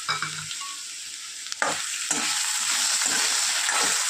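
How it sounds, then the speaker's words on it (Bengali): Ginger paste and green chilli hit hot oil over browned potatoes for Bengali chana dal, giving a loud, steady sizzle that jumps up after a brief stir partway through and carries on dense and close to the end. "আদা আর কাঁচা লঙ্কাটা দিয়েও একটু কষিয়ে নেব।"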